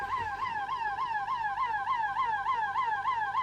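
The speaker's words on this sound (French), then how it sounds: "C'est cool parce que c'est le bruit de la sirène dans Sam le pompier." A thin electronic toy fire truck siren wails in a fast, repeating rising sweep, steady and continuous, like a small battery-powered toy, with no talking.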